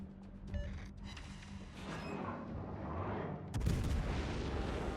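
Warship guns fire high-explosive shells in a naval video game, the ship being the cruiser Des Moines. Deep artillery booms roll through the clip, with one heavy, close salvo landing near the end.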